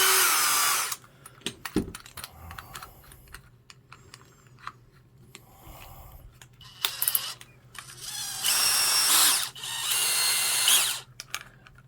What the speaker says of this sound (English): The gears in this Performance Tool just don't sound particularly great.